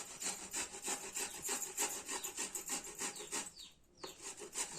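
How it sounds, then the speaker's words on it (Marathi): Indian gooseberries (amla) grated finely by hand against a grater for muramba, a quick steady run of rhythmic scraping strokes, close and clear, with a short pause near the end before the scraping resumes. "बारीक किसून घ्यायचा."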